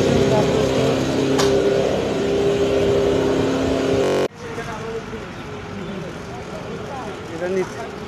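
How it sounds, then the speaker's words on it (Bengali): Motor vehicles run beside a railway station CNG stand, a loud steady engine drone that cuts abruptly midway to a quieter rumble of passing traffic, with voices mixed in. "চলছে বলে আওয়াজ, অনেক আওয়াজ, মোটর চলছে"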